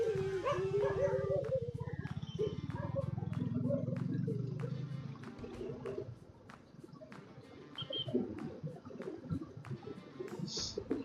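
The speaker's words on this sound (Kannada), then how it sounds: "ಈ ನಾಯಿ ಕಾಟ ಹೆವಿ ಗುರು" Dogs barking at riders on an off-road motorbike trip near Bolumalai Fort, with loud close barks and yelps over the first half, then fading into quieter outdoor ambience with birds.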